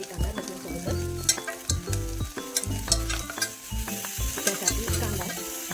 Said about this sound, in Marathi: कांद्यासोबत लसूण जर फ्राय केला आणि लाल होईपर्यंत तळून घ्यायचा